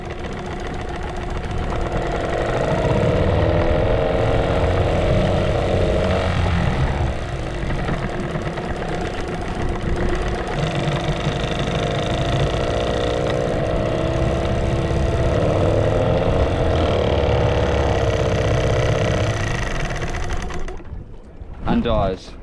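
An outboard boat motor with a fault and a rattling noise idles at low revs, a steady, close, rough mechanical drone that holds for about twenty seconds before briefly dipping near the end.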